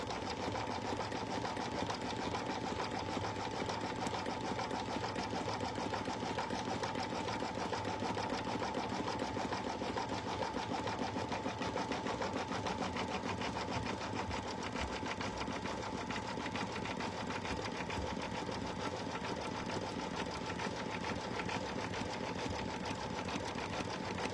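Embroidery machine stitching a vinyl and puff foam bag in the hoop, a steady, close, fast mechanical whirring with a continuous needle rhythm running unbroken throughout, with no talking.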